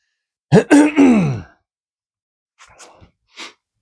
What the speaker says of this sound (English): I always clear my throat for ages.